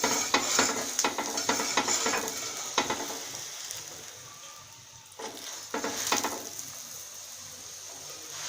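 A dal-stuffed paratha fries on a pan over low heat, giving a steady soft sizzle with scraping and turning noises bunched in bursts near the start and again around the middle, with no talking.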